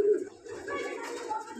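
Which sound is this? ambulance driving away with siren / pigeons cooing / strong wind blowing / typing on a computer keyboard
pigeons cooing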